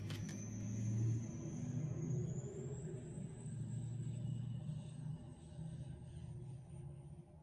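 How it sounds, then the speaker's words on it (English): A loud truck rumbles nearby with a steady, low engine drone that carries through the whole stretch, overlaid by a faint high whine. "that truck is so loud"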